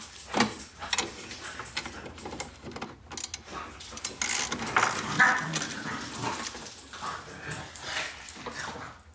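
Dog near a 2004 Harley-Davidson road-glide touring bike suspension rebuild, whimpering and yipping in uneven bursts, fairly close, over a busy workshop background.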